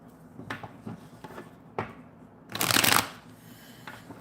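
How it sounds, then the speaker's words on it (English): Tarot cards being shuffled by hand, a few soft riffles and taps followed by one loud, fast flurry of card riffling near the end, close and clear with no talk. "I did all that shuffling and the 6 of Swords came back out."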